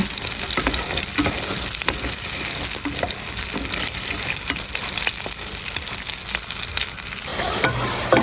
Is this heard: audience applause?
no